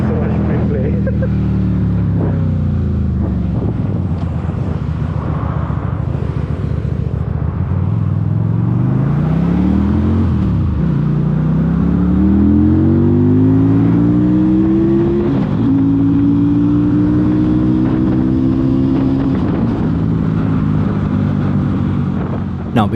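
A QJMotor SRV250 250cc cruiser motorcycle running on stock exhaust pipes, revving repeatedly with rising and falling engine pitch, loud and close, sustained throughout with occasional gear-change dips.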